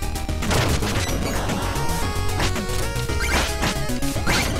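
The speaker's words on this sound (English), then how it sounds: "Oh crap. It's a bomb!" Bomb blast in the Shovel Knight game, a loud crashing burst layered with dense, busy game music and repeated impact hits, no talk.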